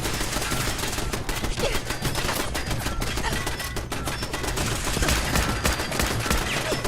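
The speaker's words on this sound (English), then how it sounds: "You're shooting me through the floor." Video game gunfire shooting up through a floor crackles in dense, continuous rapid volleys, loud and sustained throughout with no pause.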